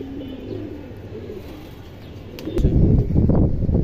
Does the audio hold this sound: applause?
no